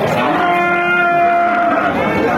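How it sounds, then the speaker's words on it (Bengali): A Sindhi breed calf moos at a busy cattle market, a single drawn-out, steady low call lasting a couple of seconds, close and loud over faint crowd murmur. "দেখতে পাচ্ছেন একটা সিন্ধি জাতের বাছুর।"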